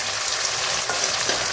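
Tomatoes fry in hot oil in a pan for a village-style fish curry, giving a loud, continuous close-up sizzle with no talk.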